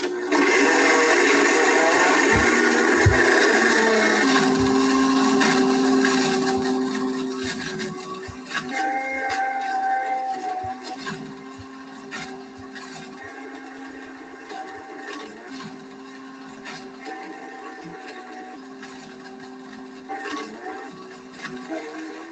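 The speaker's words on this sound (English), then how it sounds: "I knew I could get the iPad in a BlendTech Total Blender. I think I'll press the iBlend button." A Blendtec Total Blender grinds up an iPad, a loud whirring motor roar with harsh rattling that drops in level partway through and then continues with shifting pitched tones for about twenty seconds, with no voices.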